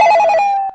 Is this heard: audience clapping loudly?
no